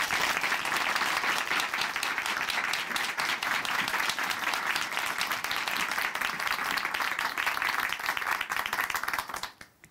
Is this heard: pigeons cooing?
no